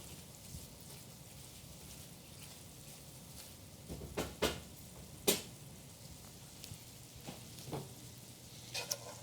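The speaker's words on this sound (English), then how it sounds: "Let's give this a bit of a stir." A pan of creamy dill and garlic scape sauce sizzles steadily on the stove while being stirred, with a few sharp clacks of the utensil against the pan, moderately quiet and close, no talking.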